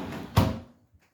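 A shower door in a cleaned bathroom is pushed shut with a single soft thud, followed by a brief fading rattle and a tiny tap afterward.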